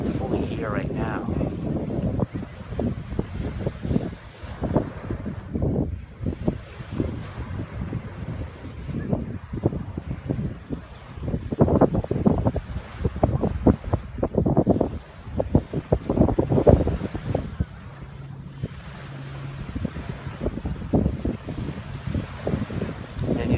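Ocean waves and wind on Miami Beach, a steady broadband wash with gusty wind rumbling on the microphone, continuous throughout, under a person talking.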